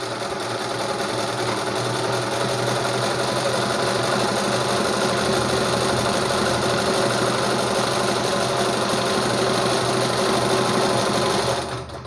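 A 4-in-1 pico and zig zag sewing machine stitching in a continuous fast mechanical whir with rapid needle clatter, loud and close, running steadily before slowing at the end with no talking.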